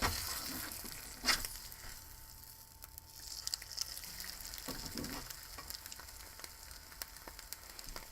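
An egg fries in a pan with a steady, soft sizzle and crackle, marked by a few brief scrapes and taps of a utensil.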